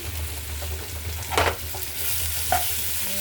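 Onions with salt and turmeric frying in a pan, a continuous soft sizzle near the mic, broken by a couple of brief scraping stirs of a spatula.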